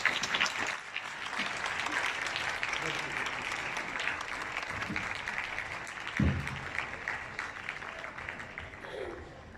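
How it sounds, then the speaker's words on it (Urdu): Audience applause welcoming a speaker on stage at an Islamic lecture event, a continuous broad wash of clapping from a sizeable crowd lasting several seconds, fairly even and slightly distant, with some voices underneath. "آپ کی بھرپور تالیوں میں ہمارے اسپیکر طاہر ابن جلیل صاحب."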